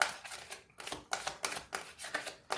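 Tarot cards laid face down one after another on a table, a quick irregular run of crisp, close taps and soft slaps with short pauses between them.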